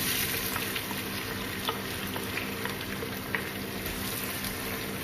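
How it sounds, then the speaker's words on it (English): Onions fry for chicken biryani in a pan, giving off a steady, even sizzle that stays fairly quiet and constant throughout, with no voices. "Fry the onions until golden brown and then add the next ingredients."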